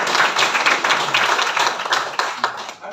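Audience applause at a property presentation, steady dense clapping from a crowd across the whole stretch, fading a little toward the end.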